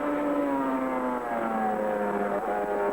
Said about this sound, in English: Listen to the Honda of Roger Burnett.